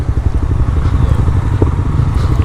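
A beginner motorcycle's engine runs loud and close with a throbbing, uneven low rumble while the rider rolls very slowly into a wheelie, the exhaust pulsing without any talk over it.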